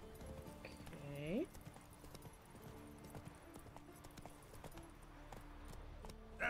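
Hooves of Roach, a horse in The Witcher 3, clip-clopping along a path in a steady walking rhythm, fairly faint, with a brief musical swell early and someone talking over it.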